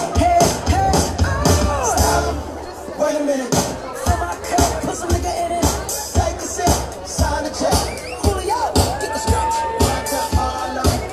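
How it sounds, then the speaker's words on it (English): A crowd at the Marymass opening ceremony in Irvine cheers and claps through a dense, lively hubbub that rises and falls in waves, with voices mixed in throughout. "Loads of people cheering there."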